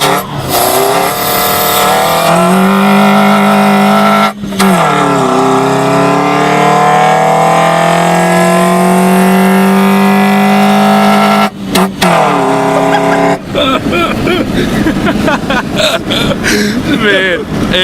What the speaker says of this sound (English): It sounds like a Cummins diesel when you're out.